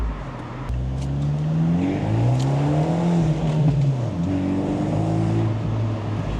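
Sports car with a 6-speed manual gearbox revving loud and close, engine note climbing and falling through gear changes, with exhaust pops and bangs crackling over the steady roar.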